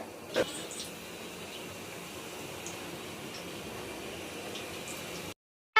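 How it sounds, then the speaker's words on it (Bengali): Malpua frying in hot oil in a pan, a steady soft sizzling hiss that runs on evenly with one brief louder pop near the start, then cuts off. "এই যে এখন লাস্ট বাম পোয়া ভাজা হচ্ছে"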